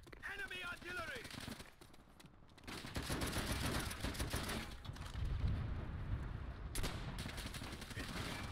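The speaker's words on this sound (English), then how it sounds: "Enemy artillery!" Gunfire and artillery blasts from a World at War first-person shooter, a dense run of loud shots and booms with rumbling impacts, while a player talks over the noise.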